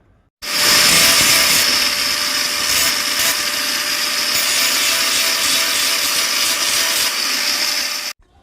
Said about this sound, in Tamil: கிரைண்டிங் பண்ணி எடுத்துடுவோம்.